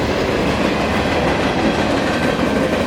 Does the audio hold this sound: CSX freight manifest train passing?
yes